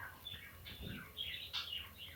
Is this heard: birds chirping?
yes